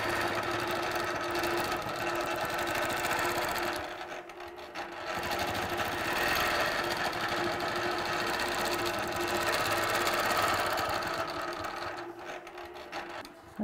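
A quilting sewing machine runs steadily as it stitches along a chalk line, with a continuous whirring motor hum and rapid needle chatter that eases off briefly partway through and again near the end.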